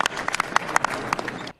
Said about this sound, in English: Whoa, it's a smattering of applause.